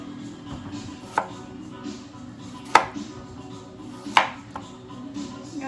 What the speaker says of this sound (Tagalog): Paano po ang hiwa natin sa ginisang sayote?